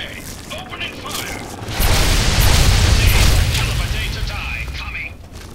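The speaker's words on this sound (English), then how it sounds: "Opening fire!" Gunfire in Fallout 3 breaks out as a loud, booming burst that swells into sustained cracking shots before slowly fading, with voices talking faintly before it starts.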